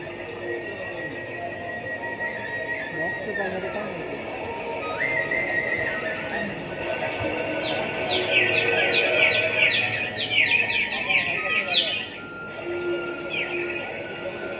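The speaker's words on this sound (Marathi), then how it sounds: "पाखरांची किलबिल" Birds chirp and whistle in repeated bright calls over a rumbling background, some trills clustering in the middle, moderately loud and outdoors.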